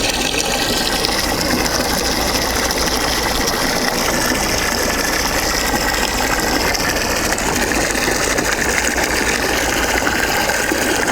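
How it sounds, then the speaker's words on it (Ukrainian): A VORHUT drainage pump draws water out of a basin, a continuous dense rattling, gurgling churn that stays loud and even from start to finish. "ми можемо повністю викачати вміст цього тазу"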